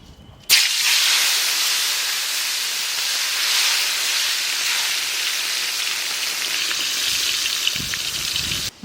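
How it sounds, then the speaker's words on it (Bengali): Eggplant slices fry in hot oil, a steady loud broadband hiss that begins abruptly and sizzles continuously throughout, with no voices. "এখন আমরা বেগুন ভাজবো।"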